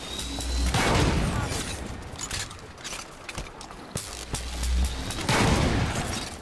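Railgun blasts in the video game Halo 5: Guardians: two heavy, booming shots a few seconds apart, each with a sharp crack and rolling low rumble, with mechanical clatter and distant gunfire in between.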